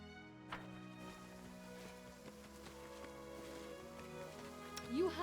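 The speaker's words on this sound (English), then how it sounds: "It's raining." Soft rain falling in the video game Pathfinder: Kingmaker, a faint steady patter beneath quiet background music.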